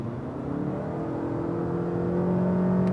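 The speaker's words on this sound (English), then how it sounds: "You heard the engine has to work pretty much then, as there's no turbo support." A Toyota RAV4's naturally aspirated petrol engine, with no turbo, revs steadily higher as it accelerates from about 70 to 100, a continuous rising drone heard from inside the vehicle with no voices.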